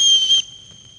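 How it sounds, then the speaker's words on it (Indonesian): A referee's whistle shrills in one short, loud, piercing blast at a school ceremony, then stops sharply, leaving only faint background. "kalahkan musuhmu dengan peluit wasit berbunyi"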